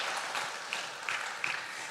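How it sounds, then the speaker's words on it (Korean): Church congregation applauding during a worship service, a steady wash of clapping at moderate, somewhat distant level with no talk over it. "다시 한번 수고했다고 들어갈 때까지 박수 한번 해주세요."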